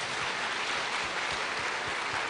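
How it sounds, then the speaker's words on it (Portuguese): A church congregation at a Sunday morning service claps for a pastor, a brief burst of steady, fairly faint applause without talking. "Vamos aplaudir o Senhor pela vida do pastor Jonathan?"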